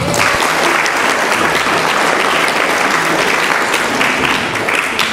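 Loud, sustained audience applause filling the room at a talk, a dense, even roar of many hands clapping together with no speech over it.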